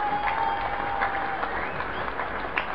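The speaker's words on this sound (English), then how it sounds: "There's a cheer from the crowd as Sean Sharma takes the second wicket." Crowd at a cricket match between India and Essex cheering and applauding as a wicket falls, a steady mid-distance roar of clapping and voices throughout.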